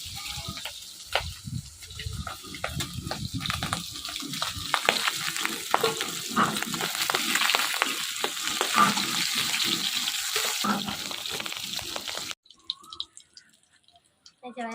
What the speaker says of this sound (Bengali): মাছ ভাজা হয়ে গেছে, এবার উঠাই নেবো।